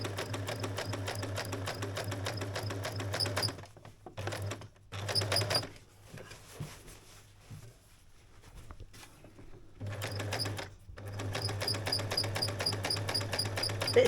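An Aldi sewing machine stitches a zip into fabric for a DIY campervan bug screen, its steady rapid needle chatter running for several seconds, pausing through a quieter stretch, then starting up again.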